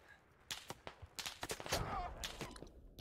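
Video game gunfire crackling in a rapid, uneven series of sharp shots through the clip, some close and loud, others lighter, with no talk over it.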